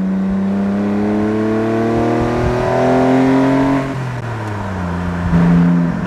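A lightweight stripped-down Porsche Boxster kart, a 2.7 Boxster-based roadster, accelerating hard with a loud, close engine note climbing steadily in pitch through a gear, briefly dipping at a shift before pulling up again.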